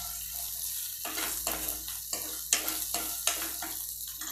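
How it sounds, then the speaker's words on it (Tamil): A spoon stirs roasted dried vathal into sautéed onions in a pan for Chettinad-style puli kulambu, giving a steady low sizzle with several short scraping strokes spaced through the sound. "வெங்காயம் நல்லா வதங்கின பிறகு நம்ம வறுத்து வச்சுருக்க வத்தல் இதில் சேர்த்துக்கலாம்."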